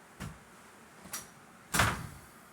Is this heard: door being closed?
yes